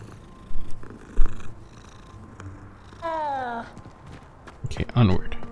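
A cat in the Hogwarts Legacy video game gives a short rising meow followed by a rumbling purr, heard between bursts of footsteps and someone talking over the game.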